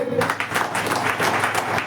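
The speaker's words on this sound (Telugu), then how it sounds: "చప్పట్లు కొట్టండి" A congregation claps together at a Christmas Day church service: dense, steady applause from many hands, fairly close and continuous, with some murmur of voices mixed in.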